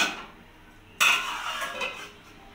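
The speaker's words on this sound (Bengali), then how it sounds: "চিকেনটা সেদ্ধ হওয়ার জন্য ভালোভাবে আমি এবার ঢাকা দিয়ে ঢেকে দেবো।" A pot of chicken for a begum-style curry being stirred and then covered, a brief metallic clatter of the lid settling onto the pot followed by a short ringing tail and a softer knock, close and alone.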